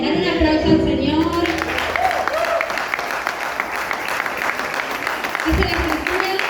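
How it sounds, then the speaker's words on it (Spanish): Congregation in a church breaking into applause, a steady wash of clapping that runs the whole time, with a voice speaking over it at the start and again near the end. "Dale un aplauso al Señor."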